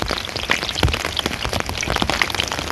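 Rain falls on a cheap surf walk board, a dense, continuous crackling and popping patter of close drops, like something frying, with no voices.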